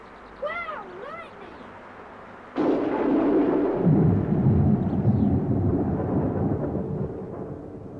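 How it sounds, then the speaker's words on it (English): A radio-play thunderstorm effect with rain pouring down in buckets starts abruptly, loud and dense after a brief warbling tone, then rumbles on as a steady heavy roar. "Well, it's raining. Coming down in buckets."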